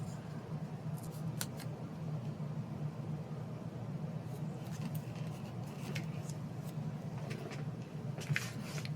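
Scissors trim paper for a reading journal, a few faint, sparse snips at a desk over a low steady background hum, with no talking.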